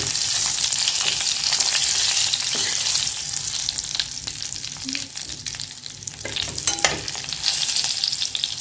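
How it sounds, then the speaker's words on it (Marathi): Brinjals roasting in oil in a pan over a very low flame, a continuous soft sizzle with occasional clinks and scrapes from stirring, fairly close and without any talking. "आता वांगी दोन मिनिट भाजून घ्यायची गॅस एकदम बारीक असते"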